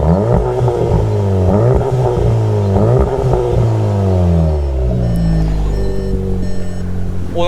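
Cupra Ateca petrol engine revving hard with exhaust valves open, a loud close throaty roar rising and falling through repeated blips before settling into a deeper steady drone, with no talking.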